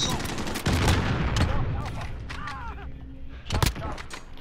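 Enemy gunfire in Destiny, with sharp cracking shots and short bursts scattered across a few seconds, including a loud volley near the start and another near the end, under a talking voice.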